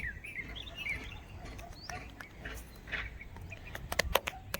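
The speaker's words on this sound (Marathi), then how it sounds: "एकदम पक्षी ओरडतो टक टक पक्षी" Birds chirp and call outdoors around a house in rainy weather, faint and somewhat distant over a steady background hiss, with a few sharp clicks near the end.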